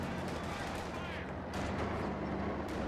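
Company of Heroes 2 battle with bazooka teams firing on a Panzer IV: a dense, steady roar of distant gunfire and artillery booms fills the whole stretch without a break.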